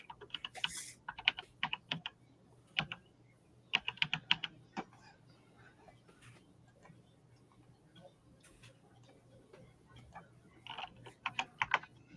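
Computer keyboard typing during a live chat: several short bursts of sharp, close key clicks separated by pauses, with occasional single taps and quiet talk in the background.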